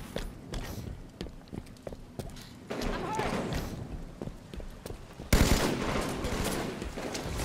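Weapon fire in the video game Halo 5 crackles in bursts throughout, with sharp repeated shots over a busy game soundscape that grows louder and denser toward the end; a voice talks intermittently.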